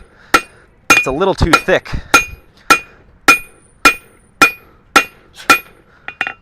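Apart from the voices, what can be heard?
hammer flattening hot steel stock on anvil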